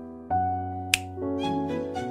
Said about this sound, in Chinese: 打了个响指